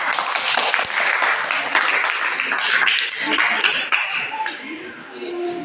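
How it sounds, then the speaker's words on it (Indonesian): Students in a classroom applaud a student group, a steady, dense clapping that carries through to the end with scattered sharp claps standing out, close and loud, with some voices mixed in. "Baik, kita tepuk tangan untuk mereka."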